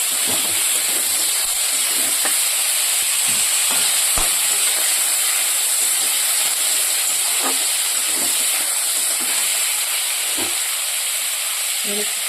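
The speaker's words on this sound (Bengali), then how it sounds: "এবার লঙ্কাটা নাড়াচাড়া করে দেবো যাতে হালকা ফ্রাই হয়ে যায়" Green chillies frying in a pan with salt, a loud constant hiss of hot oil with scattered soft scrapes and taps of stirring throughout.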